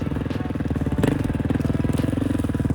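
An ATV engine runs at steady high revs with a rapid, even chugging pulse, the tires spinning in the dirt during a copper cleanup challenge, close and loud throughout.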